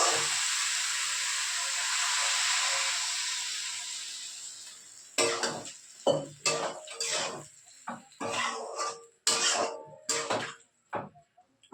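Water hits hot oil and spiced curry base in a pan, a loud steady hiss that fades, then broken, crackling sizzles and clinks of a utensil stirring, close by with no talk.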